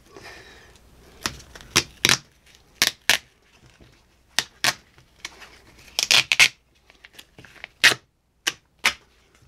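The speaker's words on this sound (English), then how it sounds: "Now I can take this blue tape off." Blue painter's tape is peeled off a homemade wooden fish measuring board in a series of sharp, close ripping and crackling bursts with short pauses between, no voice heard.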